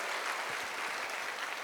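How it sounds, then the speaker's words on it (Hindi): Steady applause from a crowd fills the whole moment, an even wash of clapping with no voices standing out. "जोरदार तालियां"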